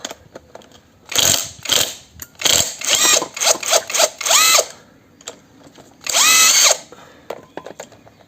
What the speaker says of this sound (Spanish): la pistola con la 16, a ver si es suficiente para poder aflojar el tornillo